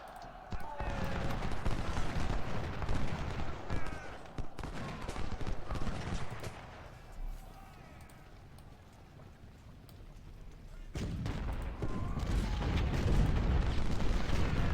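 Massed 24-pounder artillery and musket fire in the Ultimate General: Civil War strategy game, a dense stream of booms and crackling volleys that keeps going, fading briefly in the middle and swelling loud again near the end, with voices in the mix.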